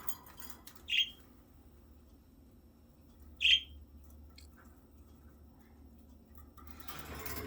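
Budgie parakeets give two short, sharp chirps about two and a half seconds apart, fairly close, over a quiet room hum with no talking.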